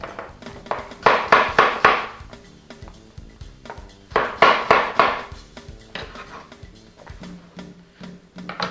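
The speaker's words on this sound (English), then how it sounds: "now we have our apples chopped up" A kitchen knife chops apples on a cutting board in bursts of quick, close, sharp taps, two clusters of rapid strokes separated by scattered single knocks.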